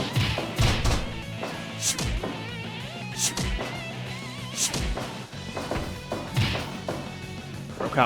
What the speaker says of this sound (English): Putting the boots to Mysterio